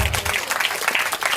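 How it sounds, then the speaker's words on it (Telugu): An audience at a village Christmas gathering in Dommeru claps for a young girl. The clapping comes as a close, lively patter of many hands for just over a second. "అందరూ చప్పట్లు కొట్టండి."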